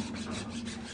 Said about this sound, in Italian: È giusto il mio socio che sta limando, sta facendo una sega con la lima.